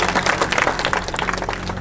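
Crowd applause at a political rally, a dense patter of many hands clapping steadily for about two seconds, fairly loud and close, without speech over it.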